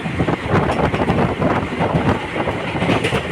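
A train running close to a road near Samudragarh on the way toward Nabadwip, heard as a steady, loud rumble with continuous wind buffeting and faint rhythmic clatter throughout.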